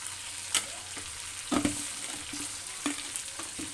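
Green chillies fry in a pan, giving a light, steady sizzle, with scattered scraping and clinking taps from stirring.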